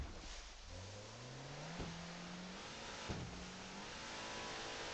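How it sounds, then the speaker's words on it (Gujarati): Jet ski engine in the video game GTA V, a steady droning motor that rises in pitch twice as it revs up, heard over constant rushing water and wind noise with no talking. "jet ski"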